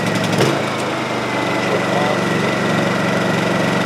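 A Honda EU2200i portable inverter generator runs in eco throttle mode with a steady, even drone, close and continuous, with a brief rise in noise at the start.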